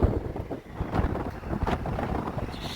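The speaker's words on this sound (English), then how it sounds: "It's super windy out, so sorry if you can't really hear me too well." Strong wind blows outdoors, buffeting the microphone with a steady low rumble and gusty roar throughout, and no voice can be heard.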